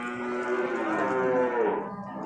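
A water buffalo at the Purwakarta animal market gives one long, loud, drawn-out moo that rises and sags in pitch, sounding close and clear over faint market background noise.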